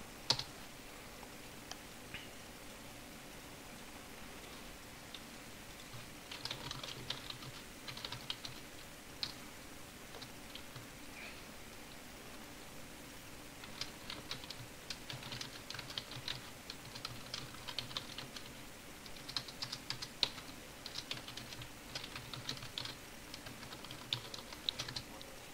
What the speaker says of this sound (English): Banging away on the keyboard over there.